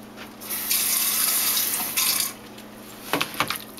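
Water runs steadily from a tap into a bowl for a couple of seconds, then stops, followed by a few clinks and splashes nearby.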